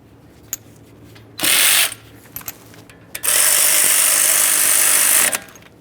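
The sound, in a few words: ratchet tightening brake caliper slider pin mounting bolts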